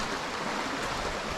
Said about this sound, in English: there's something trickling down the mountain on the side there